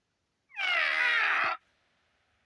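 A cartoon toy trumpet blares one loud, bright, wavering squawk that holds for about a second, then cuts off, leaving faint background sound.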